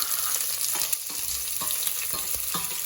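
Onions sizzle and crackle in hot oil, a constant frying hiss with a few scraping stirs, no voices.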